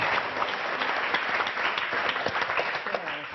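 Dense, sustained applause from a studio audience on the French TV word game show Motus, loud and continuous with no pause for the whole stretch.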